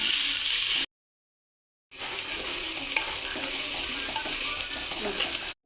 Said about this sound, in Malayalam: നമുക്ക് സവാള നല്ലതായിട്ട് വരട്ടിയെടുക്കാം